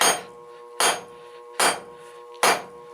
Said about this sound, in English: putting it against the anvil, right on the edge, with like a 20-degree angle, pounding that back, thin it out, and widen it